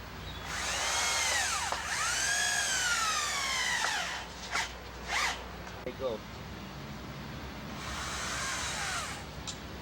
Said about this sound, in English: You want to drive the screws in so they go just below the surface.